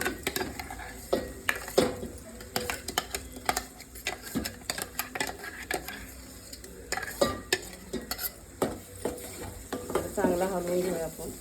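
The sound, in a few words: stirring and frying masala paste in oil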